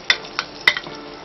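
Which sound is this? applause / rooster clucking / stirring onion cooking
stirring onion cooking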